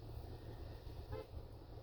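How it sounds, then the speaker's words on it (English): A car horn sounds once, brief and mid-distance, rising out of steady low road rumble from a small town street. "am I being honked at?"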